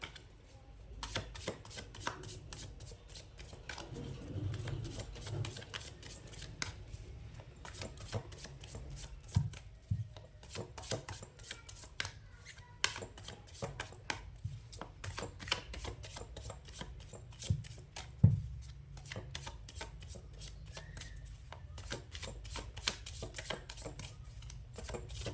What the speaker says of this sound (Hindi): यहाँ पे अच्छे से मैंने शफल कर दिया है कार्ड को